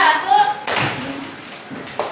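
A few sharp hand claps ring out, spaced apart in a loose counting rhythm, in a classroom with a teacher's voice nearby.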